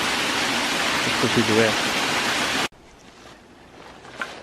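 Broadband rushing water from a winter waterfall in Bankhead National Forest, Alabama, loud and steady for over two seconds with someone speaking over it, then cutting to a much quieter stretch of faint flow.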